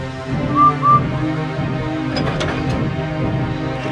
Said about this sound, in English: but when the other engine blew their whistle, James's face went pale.